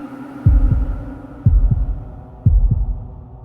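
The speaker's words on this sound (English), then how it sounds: "her heart pounding in her chest." A heartbeat sound effect in a horror story narration: three loud, deep lub-dub double thumps, evenly spaced about a second apart over a low hum.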